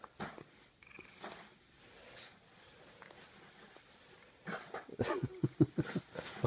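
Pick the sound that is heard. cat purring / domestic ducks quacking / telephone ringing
cat purring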